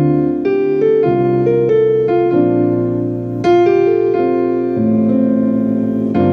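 A Casio PX-360 digital piano on its piano tone with the internal speakers switched off, a run of chords and melodic notes played at an even pace, close and clear, with no voices over it.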